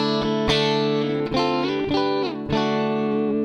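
Clean electric guitar through an 80s-style clean amp tone, playing bright, sustained chords with a glossy, polished tone, several strums ringing out one after another with no voices.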